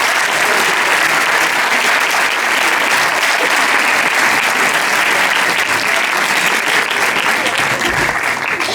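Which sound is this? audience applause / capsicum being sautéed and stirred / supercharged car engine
audience applause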